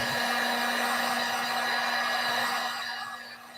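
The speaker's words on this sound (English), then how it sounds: "This is an intense heat gun for all the construction things." Intense construction heat gun blowing to dry chalk paint, a loud steady whining roar with a constant tone, close up and alone, tapering off near the end.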